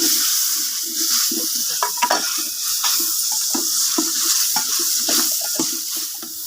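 Ground tomato being stirred into frying onions for chicken biryani cooked outdoors in a garden, a close, steady sizzle broken by repeated scraping strokes of the spoon through the pan.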